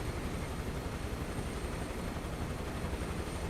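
Steady, even helicopter engine drone in Microsoft Flight Simulator 2024 over the western Grand Canyon from Las Vegas, a constant broadband rumble and whine held at moderate level without change or speech.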